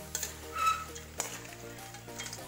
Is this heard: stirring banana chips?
yes